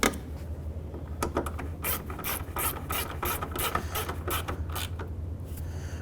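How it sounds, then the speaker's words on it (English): A hand ratchet clicks in quick, uneven bursts while snugging down the headlight screws on a 2005-2007 Jeep Liberty, close and clear with no talking. "we'll go ahead and snug these screws down"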